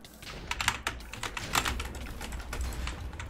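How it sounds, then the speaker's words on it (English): Computer keyboard typing during a PvP game stream, a steady run of close, crisp keystrokes with irregular clicks and no talk. "Now this is the keyboard ASMR."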